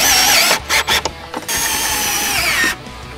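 Bolts joining four posts of a tunnel support frame are tightened with a power tool, giving a loud, close whirring drive broken by short stuttering bursts, then another long steady run before stopping.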